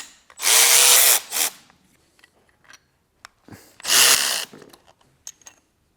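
Two long, loud bursts of a power tool loosening bolts on a Maserati Quattroporte GTS 530hp V8 engine, each with a rising whine and a brief follow-up buzz, separated by quieter clinks and taps in a workshop.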